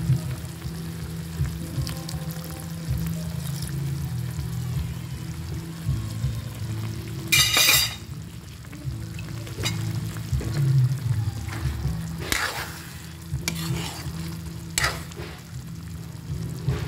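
Pieces of liver fry in a pan with a little soy sauce added, giving a steady low sizzle with occasional stirring scrapes and brief louder spatters, close by and without speech.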